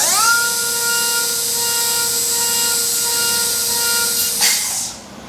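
High-pitched whine of a rotary dental handpiece enlarging a root canal in a maxillary molar, a steady tonal drone running for several seconds before abruptly shifting and winding down near the end.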